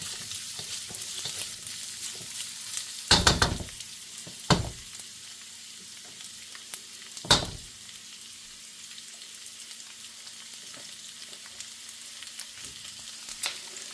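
Onion stir-frying in hot oil in a pan before bok choy is added, giving a steady, close sizzle with a few louder scraping stirs of a utensil and no talk.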